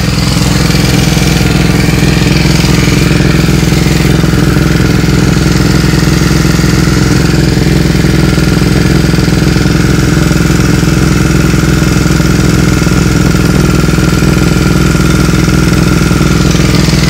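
A Suzuki SV motorcycle engine idles after a carburetor sync, a loud, steady, close rumble holding an even fast beat throughout with no talking.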